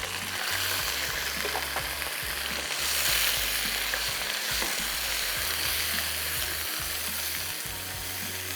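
Chicken frying with onion and ginger-garlic paste, a dense, loud sizzle crackling continuously up close, with intermittent scraping stirs throughout.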